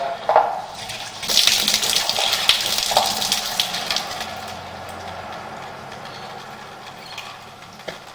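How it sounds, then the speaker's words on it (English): Water rushes and gurgles through a drain pipe, starting with a louder surge and slowly fading, mixed with faint mechanical rattling. "we'll just wait for that water to go past."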